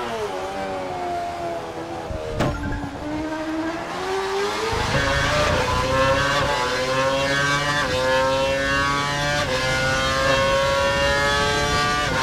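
A Formula 1 race car engine from the F1 2012 racing game screams loudly and continuously, its pitch sweeping up through the gears in steady rising pulls with a brief break near the start.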